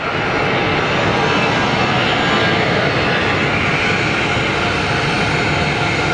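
Business jet taxiing close by at Luton airport, a loud, steady turbine roar and whine that holds constant throughout with no voices.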